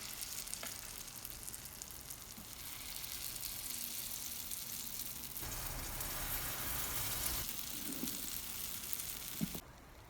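Sweet potato paniyaram batter sizzles and fries in an oiled kuzhi paniyaram pan, a steady close crackle lasting throughout with small bubbling pops and a faint clink near the end, no voices.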